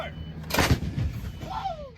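Artillery cannon fire from a military gun crew, one loud broadband boom around the midpoint with a rumbling decay and background noise, a faint voice-like tone near the end.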